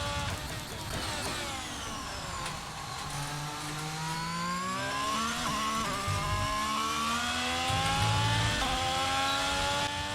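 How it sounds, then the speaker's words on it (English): An Alfa Romeo C43 Formula 1 car in the F1 22 racing game, its high-pitched engine whining up and down through gear changes with steady rising and falling tones, plus a brief tire squeal, no voices. "First time driving an F1 2023 car."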